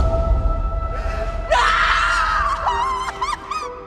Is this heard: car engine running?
no